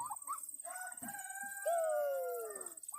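Turkeys gobble and call nearby, with high warbling, wavering cries and a few short clucks in quick succession.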